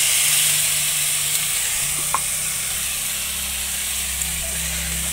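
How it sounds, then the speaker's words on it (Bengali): Spice masala sizzles in a pan as a little water goes in, a close steady steamy hiss and crackle with a low hum underneath and a few faint clicks of stirring. "এবার এতে সামান্য পরিমাণে জল দিতে হবে"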